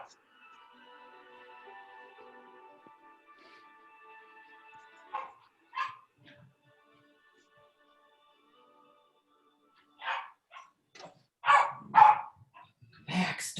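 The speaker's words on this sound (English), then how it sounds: "it sounds just like her puppy" A puppy whimpers, then gives several short yips and barks, close and fairly loud, after a stretch of quiet droning tones.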